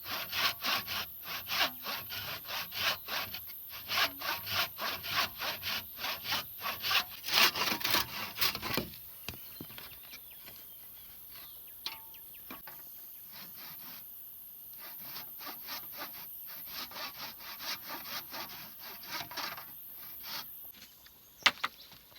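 Wood being hand-sawn while building a thatched farm hut, a steady back-and-forth rasping stroke rhythm that is loud and close at first, then continues more softly and evenly.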